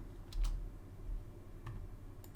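A few sparse, faint keystrokes on a computer keyboard, clicking singly at irregular moments over a quiet room hum, with no voices.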